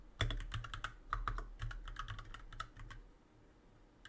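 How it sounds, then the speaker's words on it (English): Rapid clattering bursts of someone typing on a computer keyboard, close and fairly quiet, with irregular clusters of keystrokes that thin out and fade toward the end, no talk. "I'm gonna try and blind type this"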